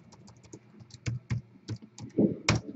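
Keyboard typing as a live online list is set up, with irregular clusters of soft key taps and a few louder strikes, close by and with no talking.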